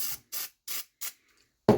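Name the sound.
spraying lubricant on recoil starter parts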